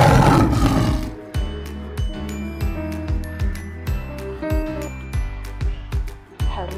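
Toy tiger plays a loud roar with deep rhythmic growling pulses, repeating several times along with light tinkling electronic tones throughout.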